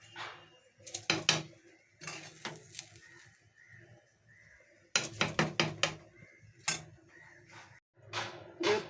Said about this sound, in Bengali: এবারে আমি খিচুড়ির হাঁড়িতে দিয়ে দিচ্ছি